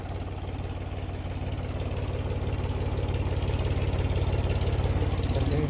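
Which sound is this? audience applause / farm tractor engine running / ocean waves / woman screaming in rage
farm tractor engine running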